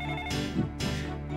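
Telephone ringing in a Dreamcast video game: two short electronic ring bursts over a steady tonal game background, with no voices.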